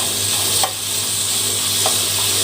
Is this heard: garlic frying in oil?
yes